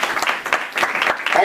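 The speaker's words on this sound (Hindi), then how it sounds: "सर के लिए जोरदार ताली।" A crowd bursts into loud, dense clapping at a direct selling seminar in India, a brief steady round of applause.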